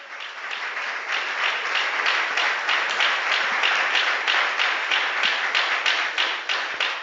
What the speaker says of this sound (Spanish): Palmas para Jesucristo.